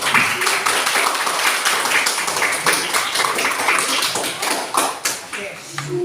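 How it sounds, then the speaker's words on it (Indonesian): Clapping from a group of students in a classroom lesson, an uneven patter of hands with sharp taps, fairly close, mixed with some background voices. "tepuk tangan kelompok 1."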